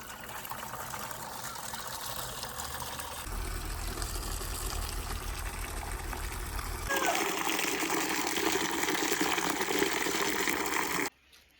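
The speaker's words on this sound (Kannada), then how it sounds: "ನೀರು ತುಂಬಿತು" Water running into a container to soak clothes for washing, a steady gush that changes tone partway through and then grows louder and brighter before cutting off abruptly at the end; no talk.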